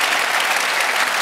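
Brief burst of dense audience applause and clapping, loud and continuous, with no one speaking over it.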